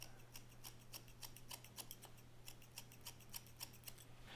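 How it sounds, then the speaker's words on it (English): Scissors snip straight into a one-inch section of hair, a quiet, steady series of crisp close cuts repeating several times a second with no talking. "we want to take a little section of that hair, about 1 inch thick, and we want to just cut straight into it like this"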